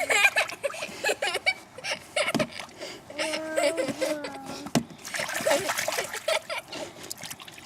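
Water splashes and trickles in and around a raft in a pool, irregular sloshing bursts close by, with children's voices and laughter mixed in.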